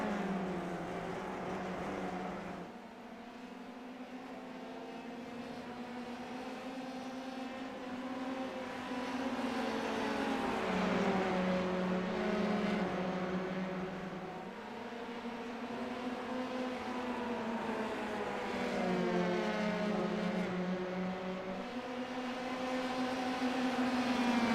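Open-wheel race cars in a video game race wheel to wheel, several engines droning and shifting pitch steadily through the whole stretch, loud and continuous with rising and falling revs as they pass.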